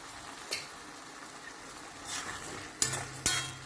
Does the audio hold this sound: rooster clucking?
no